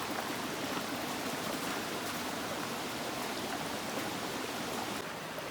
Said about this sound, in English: It's our first creek crossing. And we're gonna cross going through the water using these rocks